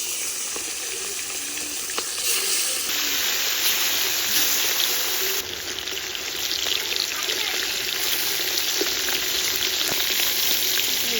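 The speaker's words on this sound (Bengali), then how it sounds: "ঝোল করবো বলে আজকে হালকা ভাজা করেছি, এখন মাছগুলো হয়ে গেছে, এখন তুলে দেবো।" Large pieces of chital fish fry lightly in oil, a dense, continuous close sizzle with spattering crackles that runs steadily for several seconds with no talk.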